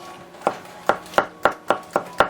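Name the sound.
chopping celery with a knife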